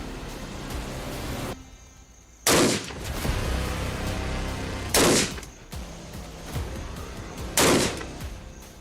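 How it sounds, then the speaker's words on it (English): Rifle shots at a shooting range ring out three times, evenly spaced a few seconds apart, each a loud, close blast over a constant background hiss. "Rifle is live, range is live, aim at the target, own time."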